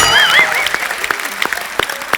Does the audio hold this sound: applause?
yes